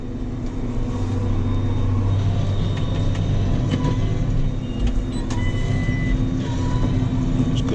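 A JCB Fastrac tractor pulling an old CLAAS hay baler through a hay field, a continuous loud droning engine and machinery rumble with steady mechanical hum and no voices.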